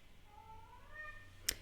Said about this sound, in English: He doing post-dinner meows